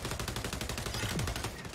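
In the first-person shooter XDefiant, rapid gunfire crackles in a dense, continuous burst that fills the short moment. It sounds loud and busy, like automatic weapon fire in a match.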